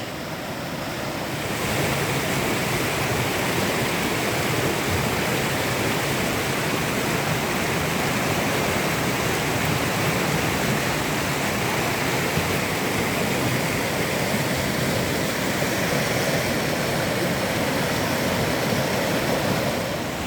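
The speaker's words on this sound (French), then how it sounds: "admirer les toutes petites cascades et la nature qui a fait son bout de chemin en mettant des troncs d'arbres à travers les rochers" Small waterfalls spill over rocks and fallen tree trunks in a natural setting, a steady, dense rush of flowing water that holds evenly from start to finish with no voices.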